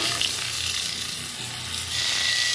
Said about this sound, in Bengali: ওই তেলে আলু পটলটা ভেজে আনব।